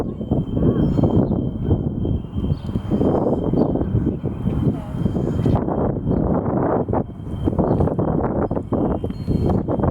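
Gusty wind blows across a canal towpath on the Chester Canal, a loud continuous rumbling buffet of wind noise on the microphone that rises and falls throughout.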